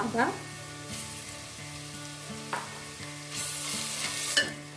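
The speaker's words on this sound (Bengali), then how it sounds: "আদা, রসুন, পেঁয়াজ বেশ ভালো করে ভাজা হয়ে গেছে" Ginger, garlic and onion fry for prawn biryani, a close, even sizzle with a few spatula knocks and scrapes and a brief surge of louder hissing near the end.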